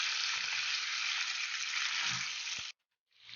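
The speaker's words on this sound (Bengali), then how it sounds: "এবার আমরা ভালো করে চিকেন লেগ পিসগুলোকে ফ্রাই করে নেব।" Chicken leg pieces frying with spices in a hot pan give a loud, steady close-up sizzle that runs unbroken, then cuts out abruptly near the end before the hiss starts to return.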